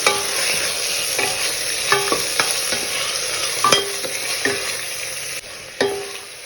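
Small onions and tomatoes with curry leaves sauté in a pan for a country chicken curry, giving a soft continuous sizzle broken by sharp clinks and scrapes of a spoon stirring, close and with no voices.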